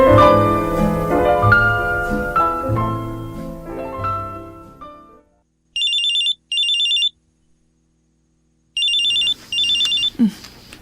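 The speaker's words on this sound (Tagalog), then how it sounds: "Cellphone ko ba yung tumutunog?" A cellphone ringtone sounds in two pairs of bright electronic rings, clear against near silence, after a fading musical passage.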